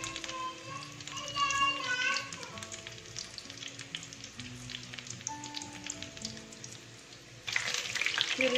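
Aloo tikki, spiced potato patties, fry gently in oil on a low flame, with a steady soft sizzle running under background music and a brief louder burst of crackle near the end.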